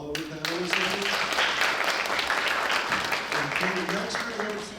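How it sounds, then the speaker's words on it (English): Audience round of applause for a panel discussion, sustained clapping from a crowd that swells after a brief opening and continues steadily, with a voice speaking over it. "Can we get a round of applause for all of the panelists?"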